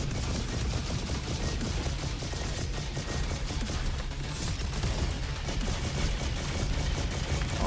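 Dense, continuous barrage of explosive bursts from an enemy robot dropping bombs in the video game Roboquest, loud and close with no let-up, sounding like rapid gunfire.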